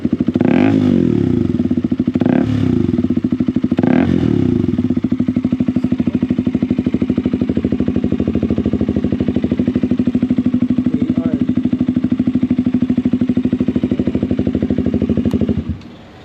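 KTM Duke 200 motorcycle with a loud aftermarket underbelly exhaust, revved sharply three times early on, then settling into a steady rumbling idle before cutting off.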